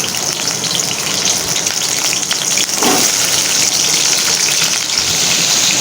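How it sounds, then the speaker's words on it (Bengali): Hilsa fish heads frying in hot oil in a wok, a dense, steady sizzle with crackling spatter, close and continuous, one brief louder pop partway through. "এবার আমরা ইলিশ মাছের মাথাগুলো ভেজে তুলে নেব"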